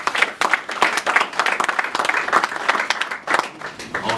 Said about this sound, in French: je demande aussi de l'applaudir